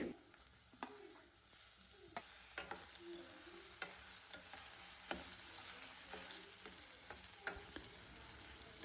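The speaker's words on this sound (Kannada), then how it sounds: "ಆನಂತರ ನೀವು ಇದಕ್ಕೆ ಹೆಚ್ಚಿಟ್ಕೊಂಡಿರೋಂಥ ಕ್ಯಾಪ್ಸಿಕಮ್ನ ಆ್ಯಡ್ ಮಾಡಿಕೊಂಡು ಫ್ರೈ ಮಾಡ್ಕೊಳ್ಳಿ" Onion and capsicum fry in a pan for capsicum rice, a faint continuous sizzle broken by regular sharp clicks and scrapes of a spoon stirring against the pan.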